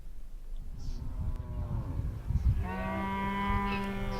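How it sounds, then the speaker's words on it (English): Cattle moo close by, a long low call followed by another drawn-out moo over a rumbling background. "Cattle herders too are benefiting from clean and easy access to water"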